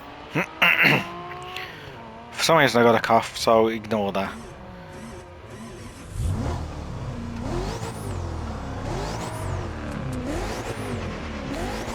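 Someone talks briefly, then a Noble M600 Lunar Year Edition sports car engine in a racing video game starts and revs repeatedly, rising and falling pitch sweeps under a steady idle, fairly close.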